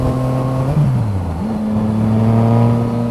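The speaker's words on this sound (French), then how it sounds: "ça pétarade." Yamaha MT-09 motorcycle with an Arrow titanium exhaust, its engine note close and loud, dropping in pitch as the throttle closes, then rising and holding steady again, with a rough crackly edge during the drop.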